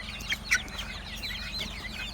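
Several chickens, including broiler chicks and a red rooster on a farm, cluck and chirp softly in a rapid scattered chatter over a low background hum, with no talking.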